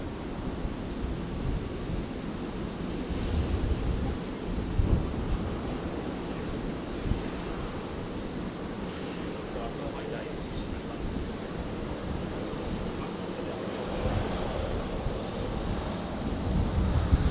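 Airliner taking off from runway 19 right at Brisbane airport, a steady distant engine roar with wind buffeting the microphone, heard under radio chatter from air traffic control.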